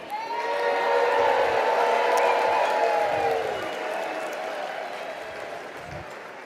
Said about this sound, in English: let's hear a cheer from everybody as we are celebrating our banquet tonight